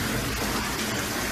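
Swimming sends a steady, close wash of splashing water through the short stretch, a dense broadband slosh with no distinct strokes standing out and no talk over it.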